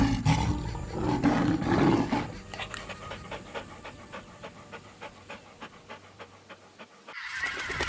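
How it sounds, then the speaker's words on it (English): A horned mother animal on the red-dust savannah pants in rapid rhythmic bursts, loud and close, after an opening stretch of heavy roaring breath, with no voices present. "Now it is panting amidst the red dust and the hooves pounding the ground."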